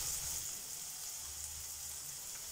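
Onions fry in a pan for an Indian-style broccoli and potato sabji, giving a continuous close, soft sizzle with faint hiss and no talking.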